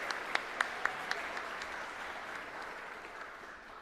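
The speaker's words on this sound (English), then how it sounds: "Please give them a warm round of applause." Audience applause at a community college celebration, a few distinct claps at first, then a soft, distant patter that fades gradually over a few seconds.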